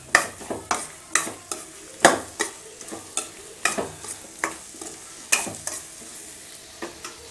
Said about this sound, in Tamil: மிதமான தீச்சூட்ல இப்போ 3 நிமிஷம் பக்கம் நல்லா வதக்கிட்டேங்க